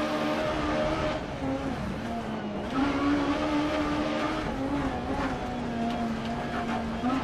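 A rally car in the Dirt Rally video game, racing a Finland stage, giving a loud, steady engine drone with a slightly rough, uneven tyre rumble, as if from a flat tyre, throughout.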